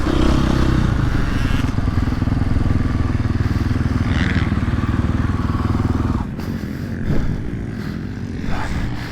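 A 2022.5 GasGas 450 Factory Edition motocross bike runs with a steady, loud engine roar that eases off after a few seconds, then continues more quietly with scattered clatter.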